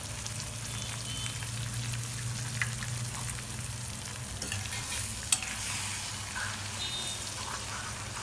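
Egg bhurji made from three eggs being stirred in a pan, with a steady soft sizzle and scraping stir sounds throughout and one sharp clink near the end.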